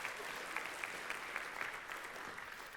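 Brief, continuous clapping from a church congregation, a dense, even patter of applause at low volume lasting a few seconds with no voices over it.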